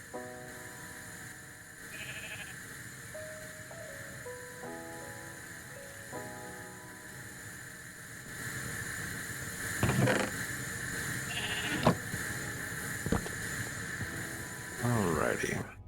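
Sheep bleat in modded Minecraft as a string of wavering electronic bleats over a steady machine hum and occasional mechanical clicks.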